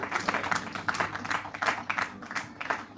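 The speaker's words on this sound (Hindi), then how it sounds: "तालियां आप लोग बजाते रहें इन नौजवानों के लिए" Scattered audience applause at an award ceremony where a cheque, shield and shawl are presented, loose claps rising and falling over a steady murmur of crowd noise.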